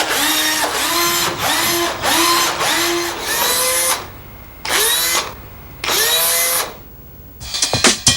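A power drill whirs in repeated bursts of about a second each, rising in pitch as it spins up, loud and close. Short pauses fall between bursts, and a few clatters come at the end.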